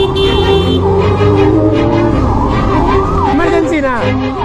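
An ambulance siren wails loudly and close by in a Bengaluru street during an emergency, its sweeping rising and falling tones continuous, with a voice briefly speaking over it.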